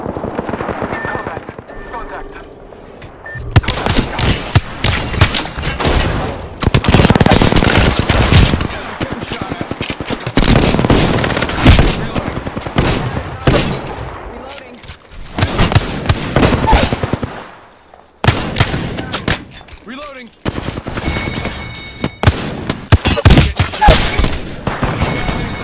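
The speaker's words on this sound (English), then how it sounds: "I am taking fire." Loud video game gunfire with rapid automatic bursts, booms and explosions that come in dense waves, close and intense, with people talking over the fighting.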